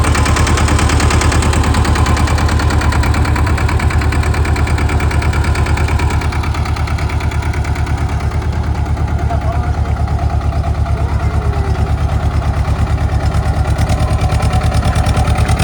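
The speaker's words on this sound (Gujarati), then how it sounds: "અત્યારે 4x4 માં નાખીને જોઈ લ્યો ટ્રેક્ટરની તાકાત" Tractor engine running hard in four-wheel drive, a loud close diesel chugging with rapid regular firing pulses that hold steady throughout, easing slightly in tone partway through.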